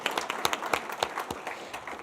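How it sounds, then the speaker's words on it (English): Audience applause at an alumni tribute awards ceremony, greeting the event's orator, a university provost; scattered claps ring out moderately close for about two seconds, with some uneven, sparse patches. "She deserves an applause too"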